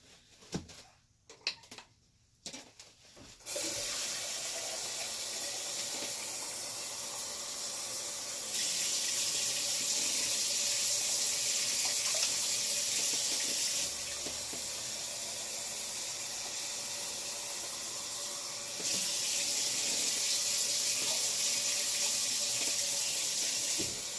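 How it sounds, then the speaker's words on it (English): Tap water runs steadily for about twenty seconds, filling a cup for watercolor painting, with a broad hiss that grows louder in a few stretches after some brief handling clatter at the start. "adding some more water to this."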